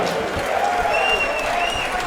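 Crowd in a fight-event arena applauding a fighter's introduction, a dense, loud wash of clapping and cheering with a few faint whistles on top.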